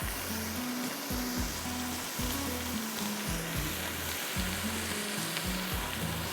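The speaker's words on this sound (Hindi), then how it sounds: "टमाटर अच्छी तरह भूनेंगे" Tomatoes fry in a pan with a loud, steady sizzle, under a repeating low-pitched tone that comes and goes.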